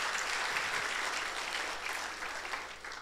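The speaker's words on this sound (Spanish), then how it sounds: "Démosle un fuerte aplauso al Señor" A church congregation claps steadily in praise to God, a broad wash of applause that is moderately faint and slowly tapers toward the end.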